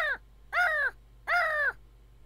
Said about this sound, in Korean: 밖에서 새 우는 소리 나는데